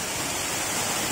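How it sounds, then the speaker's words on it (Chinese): Alipang Waterfall, the largest waterfall in Yangmingshan, running high in the wet season: a steady, loud broadband roar of falling water that stays constant and close with no voices. "阳明山最大的瀑布"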